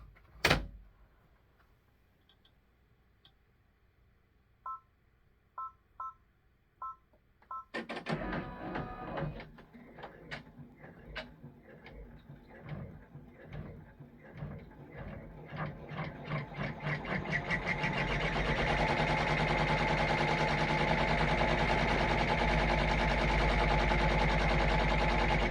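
An embroidery machine sewing a placement stitch, starting with a few clicks and beeps, then a rapid rhythmic needle clatter that steadies into a loud continuous run.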